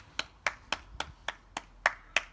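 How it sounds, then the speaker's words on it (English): Eight sharp, evenly spaced hand claps from a home PE lesson, close and dry, roughly three per second with quiet gaps between each. "Give yourself a round of applause."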